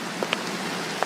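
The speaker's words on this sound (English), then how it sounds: "it's raining" Steady rain hisses in the Craftadia game world, a soft continuous patter with a few faint droplet ticks, no voices.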